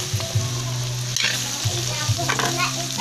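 String beans and clams sauté in a hot pan, giving a loud, steady sizzle broken by stirring scrapes and clatters, with no voices.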